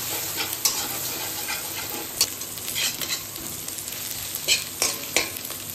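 Two lightly salted eggs frying in oil for chicken noodles, a steady loud sizzle with a spatula scraping and stirring the pan in irregular knocks and swishes, no voices.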